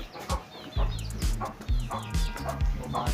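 Chickens cluck and squawk repeatedly at close range, with short sharp calls in quick succession and a dog-like bark mixed in.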